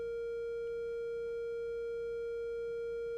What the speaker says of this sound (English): A sine wave has only the fundamental. It sounds pure and smooth.